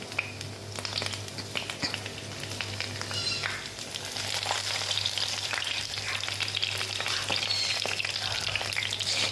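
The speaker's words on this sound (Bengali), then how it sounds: "ঢাকা দিয়ে দিয়ে ভাজতে হবে, যাতে ভেতর পর্যন্ত খুব ভালো করে সুন্দরভাবে ভাজা হয়ে যায়" Shrimp paturi wrapped in bottle gourd leaves fries covered over a low flame, a continuous dense sizzle and crackle with occasional stirring scrapes that grows slightly louder midway, close and with no voices.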